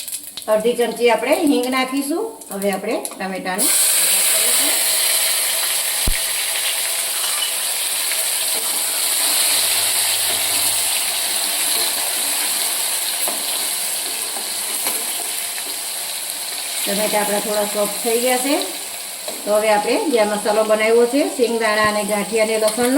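Cumin and carom seeds sizzle in hot oil on a low flame while a Gujarati potato and cluster bean curry is being started; a steady, loud hiss runs through the whole stretch, with speech heard at the start and end.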